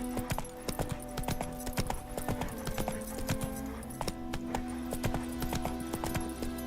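Geralt's horse Roach gallops in The Witcher 3: Wild Hunt, a steady stream of rapid hoofbeats close by over a low game music bed, carrying on for several seconds with no one speaking.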